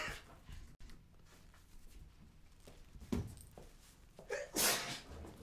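A single sharp sneeze bursts out near the end, preceded by quiet breathy rustling and a smaller catch of breath.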